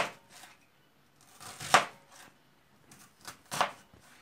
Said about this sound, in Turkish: Bu yüzden erimemesi için iri iri doğruyoruz.